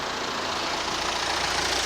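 A car engine running, heard as a steady, close, low rumble that holds an even level throughout with no voices.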